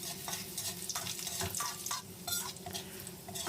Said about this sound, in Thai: จากนั้นเราก็ เจียวกระเทียมให้เหลืองหอมเลยนะครับ